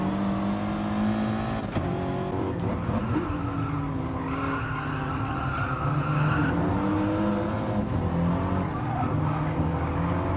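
Race cars in a racing video game roar off the start, with loud continuous engine drone, shifting revs and tire skids.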